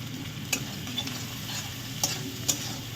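Taro and rohu fish curry sautéing in a pan with chopped tomato and salt, giving a steady low sizzle and frying hiss broken by a few sharp clinks of a spatula stirring against the pan.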